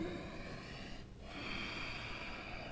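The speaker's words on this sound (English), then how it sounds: "it's called Ujjayi breath" Ujjayi yoga breathing during an intermediate/advanced class, a steady, close, audible ocean-like breath hissing through the throat, with a brief pause between a long exhale and the next inhale.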